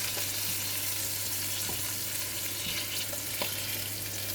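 A salmon steak frying in a pan gives a steady, dense sizzle that stays even and fairly loud throughout, with a few faint ticks and pops and no voices.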